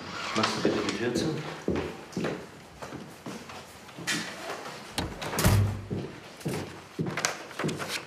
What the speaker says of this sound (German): Machst du bitte die Tür zu?